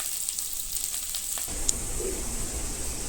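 Two medium onions and two green chillies fry in a pan, making a soft, even sizzle that grows a little fuller halfway through, with no one speaking.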